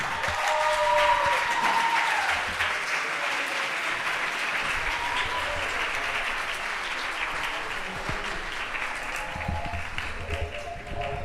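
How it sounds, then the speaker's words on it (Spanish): An audience at a poetry slam in Iruñea applauds a guest artist: dense, sustained clapping from a sizeable crowd, loud and steady throughout, with a few faint voices rising above it. "Un aplauso para Pello Lecumberri."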